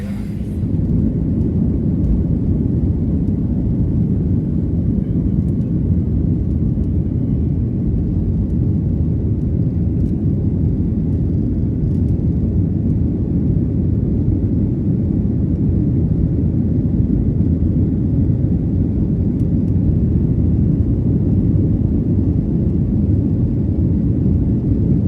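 Steady, loud broadband roar of an airplane cabin in flight, a continuous low rumble that holds constant throughout with no talking.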